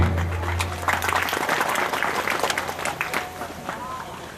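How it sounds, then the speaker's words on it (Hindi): A gathering at a Saraswati Puja event greets a speaker with applause; loud, close clapping with crowd murmur and a low electrical hum, slowly tapering toward the end. "तालियों के द्वारा इनका अभिवादन करेंगे"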